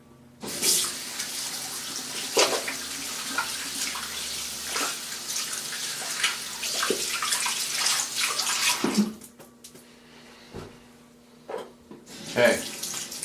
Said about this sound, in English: I'll wash my hands a little bit in it.